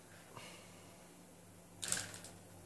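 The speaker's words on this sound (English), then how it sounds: "I'll just cut it right at 18 inches, actually." A single sharp snip as cutters close on 18 gauge wire during a RepRap Prusa i3 printer build, quick and close against a quiet room, followed by a couple of faint clicks.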